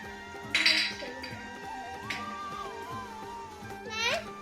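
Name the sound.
child carrying broken cup handles clinking in a bowl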